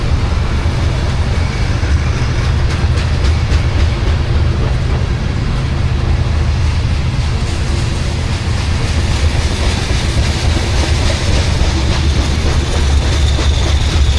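A long CSX freight train rumbles past close by in Ringgold, Georgia, a loud continuous roar with steady clattering of wheels over the rails.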